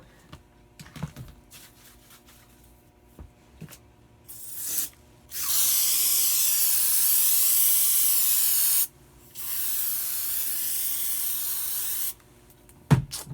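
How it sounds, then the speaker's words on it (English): A few light taps and clicks, then two long, steady hissing sprays from an aerosol can of spray adhesive on an RV sofa base, separated by a brief pause. "So I'm going to spray the glue and get that piece stuck on too."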